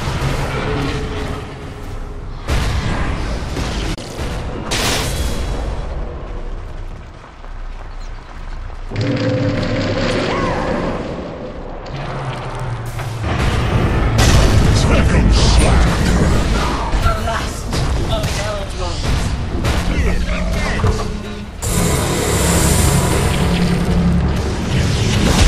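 Booming explosions from a Dota 2 match as a Radiant tower comes under attack, with loud repeated blasts and bursts layered over game music and effects, intermittent voice announcements throughout.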